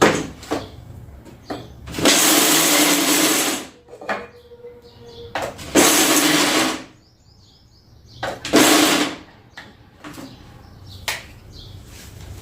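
A mixer grinder coarsely grinds half a bowl of peanuts in three loud bursts of whirring, each lasting one to two seconds, with brief quiet gaps between them.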